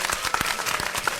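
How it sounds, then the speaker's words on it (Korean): Dense, enthusiastic applause from a large crowd, many hands clapping at once in a continuous roar. "다시 한번 열화와 같은 박수 보내주십시오"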